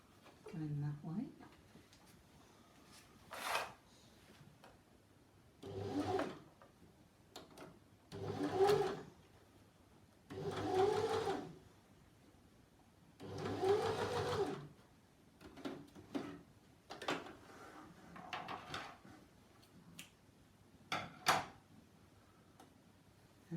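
A sewing machine understitches the seam of a maxi dress in several separate runs of rapid stitching, each lasting a couple of seconds, with quiet gaps and small handling noises between them.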